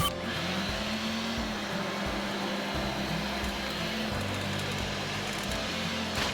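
An Eveage electric garden tiller runs continuously with a steady whirring motor drone and gritty churning noise as it works soil, close and fairly loud without pause, no voices.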